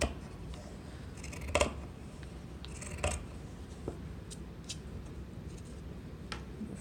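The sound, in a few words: scissors cutting fabric for a patchwork pillow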